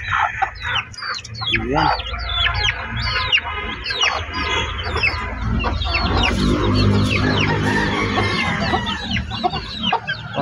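A hen clucks steadily beside the high, dense peeping of a brood of newly hatched chicks on a small farm, the chirps layering continuously throughout with a brief spoken word.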